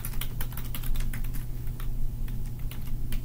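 Quick, irregular clicking of keys on a computer keyboard, heard close up and alone, with bursts of rapid keystrokes and short pauses between them.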